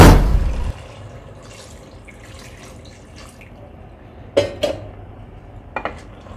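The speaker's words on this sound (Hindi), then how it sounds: "तो अब हम इसमें डाल देंगे 2 कप पानी" Two cups of water splash into a pot of beef that has been cooked with salt and chili. A short, loud pour opens the sound, followed by quiet gaps and a few sharp clinks of metal cookware.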